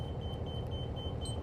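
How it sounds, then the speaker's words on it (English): Outside sensors on a Renegade Verona 40VRB RV with a Wabco safety system: a faint, steady high electronic buzz that keeps repeating in short pulses, heard over a low idling rumble. "That little buzzing you heard right there is our sensors on the outside firing up"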